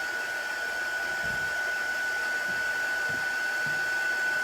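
A hand-held dryer blows over chalk paste on a silk screen, making a continuous, steady whining whoosh at close range with a constant high tone and no talking.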